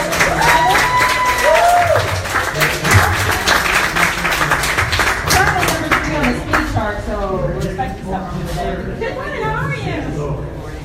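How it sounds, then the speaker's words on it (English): Studio audience applause and cheering for a racing driver guest on an IndyCar garage talk show, dense clapping that swells then tapers while a host keeps talking over it. "Let's give him a big round of applause."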